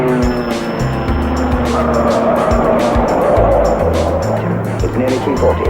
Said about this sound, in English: And off goes the Fiat Topolino